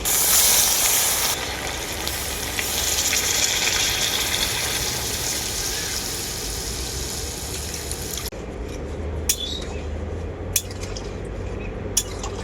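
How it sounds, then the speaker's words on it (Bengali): Water poured into a pan of sautéed country chicken curry to make a thin gravy, sending up a loud, broad hiss and rush of steam that settles into a steady simmering fizz, with a few light clinks of utensils toward the end. "এখন আমি এর মধ্যে দিয়ে দেবো পরিমাণ মতো জল ঝোলের জন্য"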